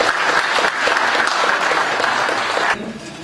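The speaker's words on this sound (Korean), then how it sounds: "뜨거운 박수 부탁드리겠습니다" Hearty applause from a symposium audience welcoming the financial supervisory chief as keynote speaker, dense steady clapping that drops off sharply near the end.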